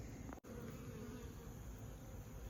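Honeybees buzz close by around a bucket of old comb from cutouts set out for melting, a continuous low droning hum with one brief dropout near the start, faint and steady throughout.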